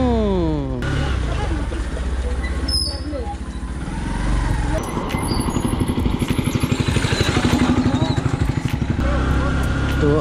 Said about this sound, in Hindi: ये वाला बाइक ना बिल्कुल डार्ट बाइक की तरह फील देता है